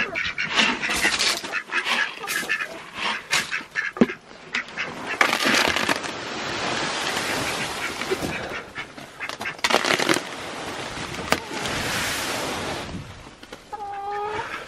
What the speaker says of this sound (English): The ducks are king of the mountain this morning.